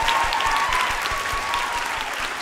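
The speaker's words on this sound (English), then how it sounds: "Can I please have a big round of applause for everybody who works here at the theatre?" A theatre audience at Giant Dwarf, a live comedy show, applauds in a dense, steady wash of clapping that fills the whole stretch without any break.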